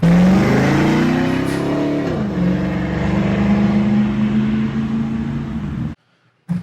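A car's exhaust revs loudly and raw, its pitch climbing and dipping through a long continuous blat before cutting off abruptly, followed by a brief last blip.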